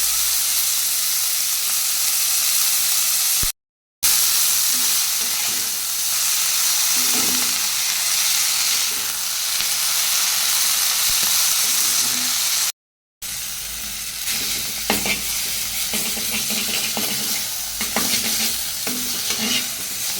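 Fenugreek leaves frying with browned onion and a little turmeric in a pan give a steady close sizzle and hiss with frequent stirring scrapes, broken by two brief gaps.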